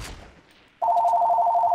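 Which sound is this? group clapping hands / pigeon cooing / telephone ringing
telephone ringing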